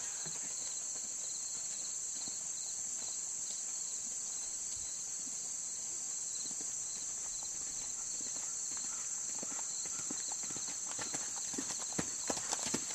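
Horse hooves clip-clop at a steady stride across a schooling arena as the horse approaches a gymnastic bounce jump, faint and close-miked under a loud, constant chorus of crickets and insects, with a few sharper hoof strikes near the end.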